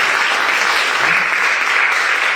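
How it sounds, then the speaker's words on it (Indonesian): A church congregation in Batam applauds loudly and continuously during a service, a dense wash of clapping that holds steady throughout. "Berikan tepuk tangan untuk Tuhan, saudara."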